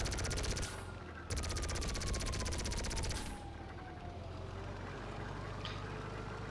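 An RC tank's plasma cannon fires in a police-chase video game, rapid pulsing bursts repeated in loud runs over a droning engine and a slowly sweeping tone.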